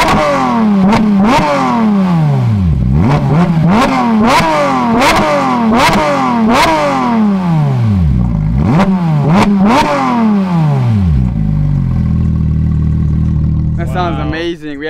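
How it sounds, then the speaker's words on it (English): A sports car fitted with an aftermarket exhaust revs hard about eight times in quick succession, each blip rising and falling loudly and close by, then it settles into a rumbling idle. "we did put an aftermarket exhaust on it, so it definitely sounds amazing"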